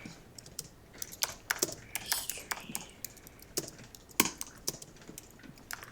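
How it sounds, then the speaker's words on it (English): Fingers typing on a computer keyboard, a quick irregular run of sharp light key clicks with brief pauses between bursts, close and fairly quiet against a low background. "I'm typing back to those of you who are typing to me now"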